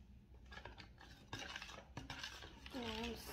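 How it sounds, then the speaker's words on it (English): A spoon stirs a French toast mixture of egg and cinnamon in a bowl, giving faint, quick clinks and scrapes of utensil against the dish, with a brief soft voice-like tone near the end. "Now I'm gonna stir it."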